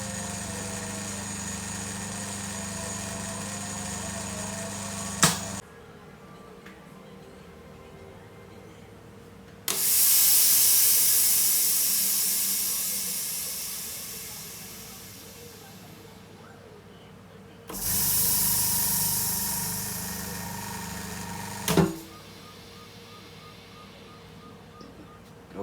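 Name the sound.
vacuum laminating and debubbling machine running for iPhone XR touchscreen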